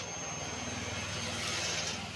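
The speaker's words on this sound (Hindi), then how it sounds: "आपको जो इसकी फ्यूल पम्प की चलने की आवाज़ है वो भी मैं सुनाने की कोशिश करूँ।" A steady, faint electric hum comes from the fuel pump of a 2024 BS7 E20 Hero Splendor motorcycle, running continuously with a soft whine and no variation.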